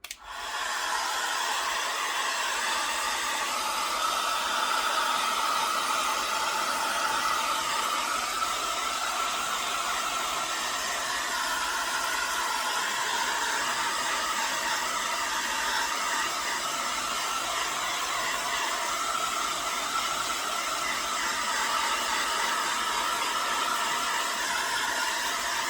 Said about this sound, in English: I'm gonna grab my heat gun.